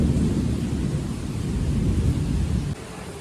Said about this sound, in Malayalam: മഴ കുറച്ച് മാറിയിട്ടുണ്ട്, എന്നാലും മഴയുണ്ട് കേട്ടോ.